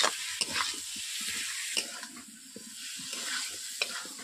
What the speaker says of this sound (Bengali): মশলার মধ্যে একটু বেশি করে ভেজে নিচ্ছি। কষিয়ে নিচ্ছি এবারে।